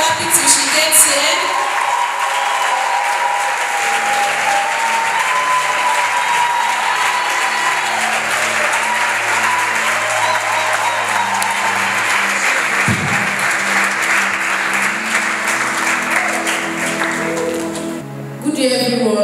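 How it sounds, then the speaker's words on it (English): Sustained audience applause fills the hall at a university drama unit event, dense and steady clapping from a large crowd that continues without a break before thinning slightly near the end. "Can we keep clapping till she gets here?"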